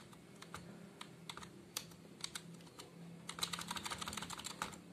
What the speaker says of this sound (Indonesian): saya akan mengetik sesuatu nomor ya saya ngetik dari sini